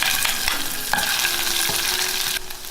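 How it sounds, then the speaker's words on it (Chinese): Minced shiitake mushrooms stir-fry in hot oil in a wok, a loud continuous sizzle close by, broken by several sharp scrapes and taps of the spatula. "把香菇末放进来炒香"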